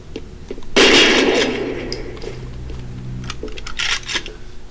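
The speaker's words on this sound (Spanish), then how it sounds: "Ese disparo hasta a mí me ensordeció." A gunshot in the shooter game F.E.A.R. bursts in loud and sharp, then trails off into a long rumbling decay with scattered metallic clinks and ringing debris afterward.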